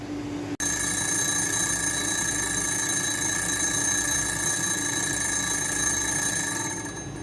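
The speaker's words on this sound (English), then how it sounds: "After the timer goes off," A kitchen timer for boiling canning jars of pickled banana peppers bursts into a loud, continuous electronic ringing that holds steady for several seconds before fading slightly at the end.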